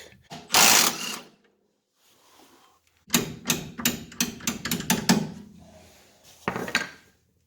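A wrench works on the front sway bar of an MGB during a coil spring job, giving a quick burst of metallic ratcheting and clanking taps up close, then a pause and a final clank.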